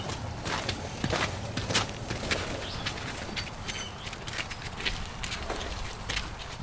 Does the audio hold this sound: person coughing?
no